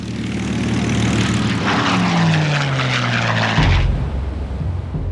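Loud droning roar of an old propeller military airplane passing close by, its engine pitch sliding downward as it goes past.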